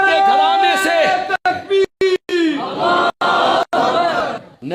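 A large crowd at a religious speech chants slogans loudly in unison, with raised voices in repeated bursts separated by brief silences.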